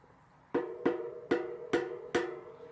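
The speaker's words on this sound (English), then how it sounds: "That sound is it sort of ratcheting in and locking down" Five sharp metallic clicks ring out one after another at an uneven pace, each with a short ringing tail, as a bicycle cassette lock ring ratchets tight against notches on the hub.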